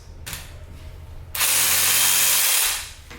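A DeWalt one-handed power saw cuts through a wooden piece held in a vise. Low motor hum gives way to a loud, steady buzzing cut for about a second and a half, then winds down.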